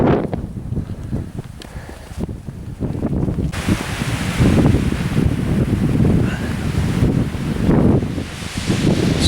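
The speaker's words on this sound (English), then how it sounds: "Ah, this wind." Wind blowing across an exposed hillside near Moel Dywyll in Wales, a loud continuous gusty roar buffeting the microphone, swelling stronger partway through and staying heavy to the end.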